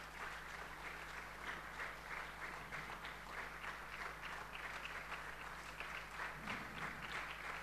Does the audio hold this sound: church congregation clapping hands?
yes